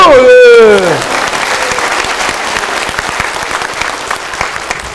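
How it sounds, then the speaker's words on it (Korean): Church revival audience bursts into applause after a preacher's joke, a dense wash of many hands following a brief loud vocal exclamation at the start and continuing steadily. "박수!"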